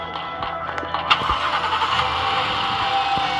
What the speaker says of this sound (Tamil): வண்டி கிளம்பிட்டோம்.